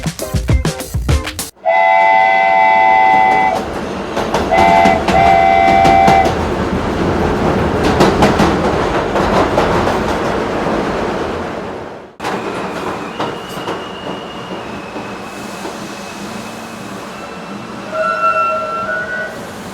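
A train comes into a station, with loud rumbling carriages, clanking and a few sustained horn blasts, then a quieter stretch with a distant tonal hoot near the end.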